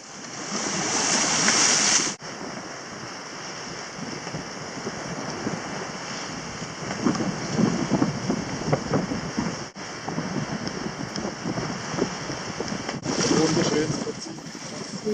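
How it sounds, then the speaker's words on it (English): Water rushing and gurgling along the hull of a sailing boat under way at sea in good wind, a continuous washing surge mixed with wind noise on the microphone, with voices talking over it. "We love that gurgling sound."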